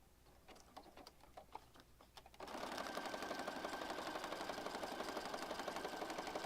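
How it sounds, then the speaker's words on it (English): A sewing machine stitches vinyl wallpaper for an oversized junk journal, starting after a few faint clicks and then running steadily and loudly with a fast, even mechanical rhythm until the end. "Now sometimes wallpaper, you may have to help feed through because this is vinyl and it may stick to your presser foot a little bit."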